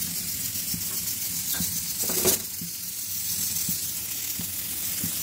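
Shrimp fry in hot oil with a steady sizzle and hiss, broken by soft stirring clacks at a regular pace and a brief louder flare near the middle.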